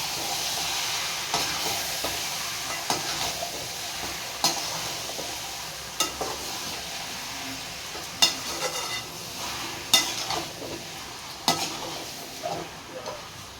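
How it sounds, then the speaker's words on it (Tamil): Chicken with salt frying in a pan gives a low continuous sizzle under repeated scraping and clinking from stirring, in irregular bursts over a quiet background. "நல்லா கிளறி விட்டுருங்க"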